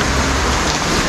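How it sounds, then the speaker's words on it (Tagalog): Dense, steady hiss of rain falling at a public cemetery, loud and unbroken for a brief moment with no voices. "rinig yun naman ang mga patak ng ulan"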